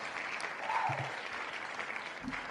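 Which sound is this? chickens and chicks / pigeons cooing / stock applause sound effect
stock applause sound effect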